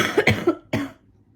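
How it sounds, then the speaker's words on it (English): A short burst of two or three dry coughs from a person with a lingering cough that won't clear, close and alone, followed by quiet. "It's just this stupid cough won't go away"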